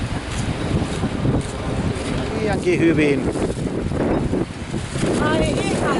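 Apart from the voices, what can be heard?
strong wind blowing by the sea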